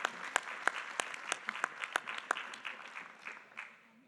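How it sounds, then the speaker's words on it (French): Sparse audience clapping at an agricultural tech pitch competition, a handful of distinct claps over a low murmur that gradually thins out and fades. "on vous applaudit"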